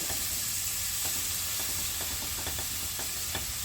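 Butter sizzles steadily in a hot pan on the stove for an Israeli couscous risotto, a constant close frying hiss with faint stirring clicks and no voices.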